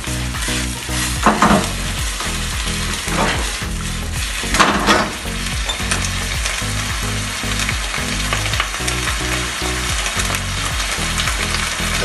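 Chicken and mushroom stir-fry sizzles loudly in a pan while being stirred, with steady close frying hiss broken by occasional scrapes and clatters of the utensil against the pan.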